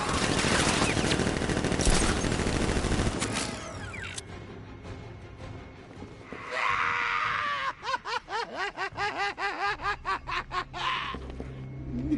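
Guards fire on Batman in Batman: Arkham Knight, a dense burst of gunfire, then a quieter stretch and rapid, repeating rattling shots alongside laughter and screaming.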